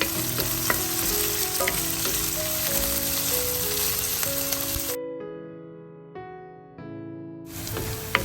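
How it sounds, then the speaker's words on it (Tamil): Onions and slit green chillies frying in a pan for a mushroom gravy, a loud dense sizzle that cuts out abruptly partway, leaving a quiet gap with music before the frying noise returns. "இப்போ இந்த வெங்காயம் நல்ல பொன்னிறமாக வதங்கி வந்துட்டுது"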